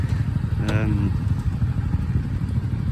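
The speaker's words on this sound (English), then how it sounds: "Honda Magna V-twin." A Honda Magna V-twin cruiser motorcycle passing on a street in Japan, a low rumbling engine over constant traffic noise, with someone talking over it.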